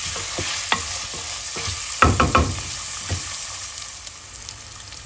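Ginger garlic paste and onion frying in a pan for a Kerala-style chicken curry, with a low steady sizzle broken by sharp spoon taps and scrapes, including a quick cluster of clinks midway, close by with no talking.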